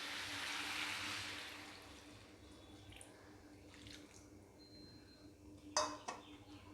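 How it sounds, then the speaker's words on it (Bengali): Hot water, salted and turmeric-tinted from boiling jackfruit, is poured into a cooking pan of jackfruit and shrimp curry: a soft, close rushing pour for a second or so, then quiet trickles and a few light clinks, no talking. "ভালো করে নাড়িয়ে নিয়ে মিশিয়ে নিয়ে এটাকে আমি জল দিয়ে দেবো"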